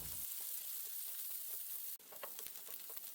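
Onion, celery and carrot sautéing in a freshly wiped pan, a steady loud hiss of frying with a brief break and then renewed crackling sizzle, close and continuous.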